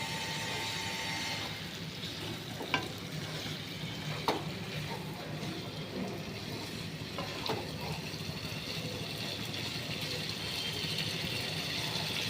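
Fish curry masala simmers in oil with a continuous low sizzle and bubbling hiss, a couple of faint utensil taps, close and steady throughout.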